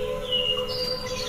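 Birds in a vegetable garden give thin, high chirps and a few sustained whistled notes over a quiet outdoor background, with no talk.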